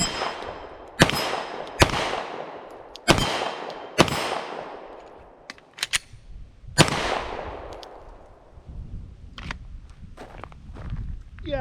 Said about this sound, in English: I'm gonna shoot from the draw here